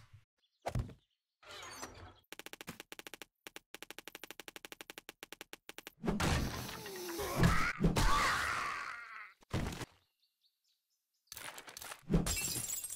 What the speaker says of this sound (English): Oh, I knew the floor gave out right there.